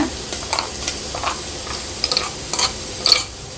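Ginger garlic paste frying in a pan for mutton biryani, with soft intermittent sizzling and a few scraping stirs, quiet and close with no voices.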